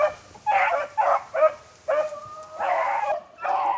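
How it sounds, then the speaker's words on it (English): Hunting dogs bark and yip in repeated bursts while chasing a swamp rabbit through a thicket, the baying fairly close and loud with short gaps between volleys. "Okay, you see the dogs right up here."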